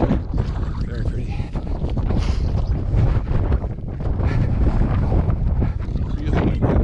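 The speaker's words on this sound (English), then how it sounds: "Really windy out" Strong wind buffets the microphone outdoors near Antelope Canyon, Page, Arizona, at sunrise, in a steady, loud roar with rumbling gusts throughout, with no voices.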